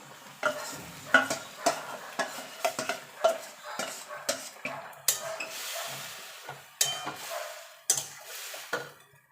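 Spoon scraping and stirring marinated chicken into frying onions in a pan while cooking chicken maharani, repeated clinks and scrapes over a low sizzle, close and moderately loud, no talk.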